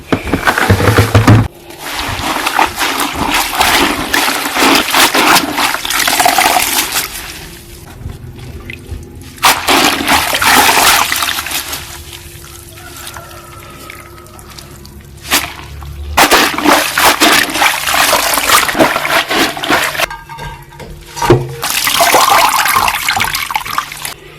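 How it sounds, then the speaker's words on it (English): Vegetables for a fermented bitter-greens dish are washed in buckets of water, with long bursts of splashing, sloshing and pouring broken by short quiet gaps, loud and close with no talk. "For my vegetables, I usually wash them twice."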